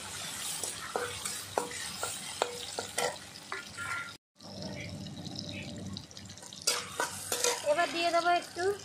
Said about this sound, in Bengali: টমেটো ভালো করে আমি আগে তেলে একটু ফ্রাই করে নেব।